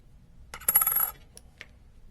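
A coin drops during gold and silver testing, giving a bright metallic ring and brief rattle as it settles, followed by two faint tiny clicks.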